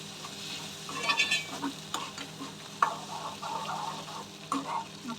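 Mashed chickpea greens added to a cooking pot and stirred, soft irregular scraping and gentle sizzling close by at a low level, with no speech.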